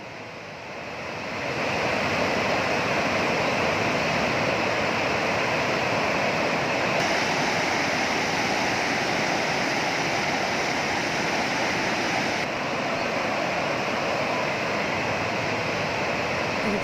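Fast-flowing floodwater in Uttarkashi, Uttarakhand, rushes as a loud, continuous roar that swells in after a second and holds steady throughout.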